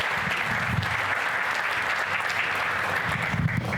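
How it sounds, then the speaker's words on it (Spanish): An audience at an institutional panel on the feminist agenda in Mexico City gives thick, even applause, many hands clapping in a continuous wash that holds steady from start to finish. "Un aplauso, por favor"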